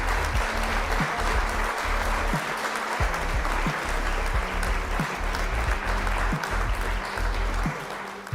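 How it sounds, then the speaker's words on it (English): A canned soundboard applause effect plays at the end of a Bitcoin chart livestream, dense steady clapping that runs for several seconds before tapering off, with no talking over it. "Let's do the clap, because that's the only soundboard thing that"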